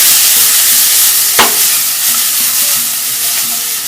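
Onions and garlic sizzle steadily in a hot frying pan, a loud continuous hiss with one brief scrape of stirring partway through.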